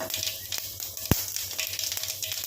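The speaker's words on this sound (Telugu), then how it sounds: "తాలింపు అయితే కాగుతుంది" Steady crackling sizzle of tempering spices with dried red chillies frying in hot oil, close and continuous, with a sharper pop partway through.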